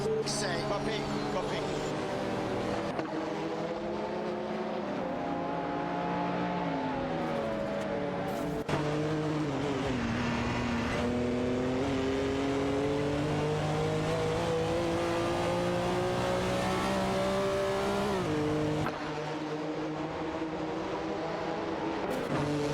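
Race cars in a racing video game roar past one another, engines droning and shifting pitch as they rev and overtake, a steady loud mechanical whine with a commentator talking over it.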